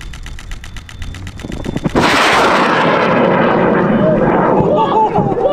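An amateur rocket motor ignites and launches at a rocket field, a sudden loud roaring blast after a moment of quieter ticking, then a sustained harsh rushing roar that slowly fades as it climbs away, with excited voices faintly under it.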